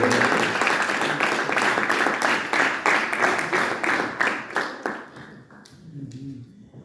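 A church congregation claps loudly during an evangelistic service, a dense, rhythmic wave of applause lasting several seconds before thinning out and fading, with faint voices heard near the end.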